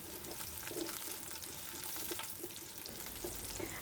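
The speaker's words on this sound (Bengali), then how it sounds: "এবং তার মধ্যে পেঁয়াজ কুচি এবং মরিচের ফালি নিয়ে হালকা ব্রাউন করে ভেজে নিব" Chopped onions and chili slices fry in hot oil for a bhindi (okra) fry, giving a steady, close sizzle with faint crackles and occasional stirring clinks, with no voices.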